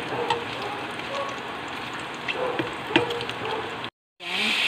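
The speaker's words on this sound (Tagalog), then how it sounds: "nagmamantika na yung ating taba mga kamix" Pork fat renders and fries in a pan, giving a steady close sizzle and crackle with scattered pops, then a brief silence before the sizzling resumes louder.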